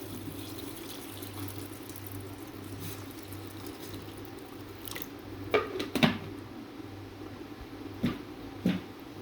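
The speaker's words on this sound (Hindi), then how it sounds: "इसके अंदर मैं पानी डाल दूँगी।" Water pours quietly into a cooking pot holding whole spices and unpeeled garlic cloves for a vegetable pulao, a soft, steady trickle broken by a few light clinks and splashes.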